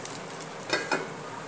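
Small rice appams made from raw rice fry in oil in a pan, giving a soft, steady sizzle with a couple of brief louder crackles, and no talking.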